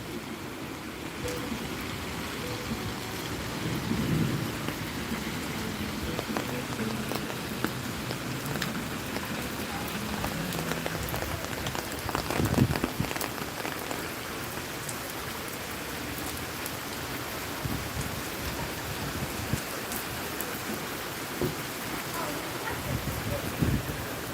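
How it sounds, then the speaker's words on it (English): Steady rain falls outdoors at a lakeside park in Celebration, Florida, a dense continuous patter with scattered louder drops and splashes, fairly even in level throughout, with no one speaking. "Hope you're wearing rain jacket, Chris."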